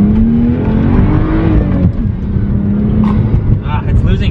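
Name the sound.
BMW 135i car accelerating hard, losing traction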